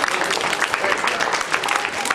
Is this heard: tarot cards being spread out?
no